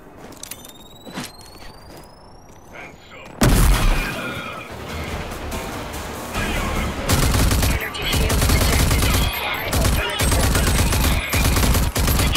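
Gunfire in the video game RAGE 2 erupts after a quiet start, with loud rapid bursts and booming shots continuing densely and close.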